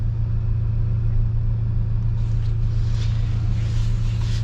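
A 2026 Toyota Tacoma TRD Pro truck drives with a steady, close engine rumble and road noise throughout, a little hiss rising in the second half, no speech.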